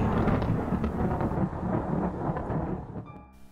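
Thunder in a storm, a deep rolling rumble that fills the whole stretch, close and fairly loud, fading away at the end, with no voice over it.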